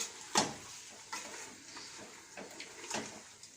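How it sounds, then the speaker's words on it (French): A spoon stirs meat and spices for couscous in a pot, giving a faint, sparse scrape and clink at intervals with quiet low sizzling between and no voices. "On va bien mélanger."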